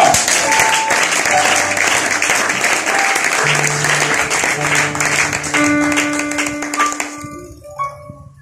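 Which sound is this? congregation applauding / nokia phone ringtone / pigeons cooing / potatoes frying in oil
congregation applauding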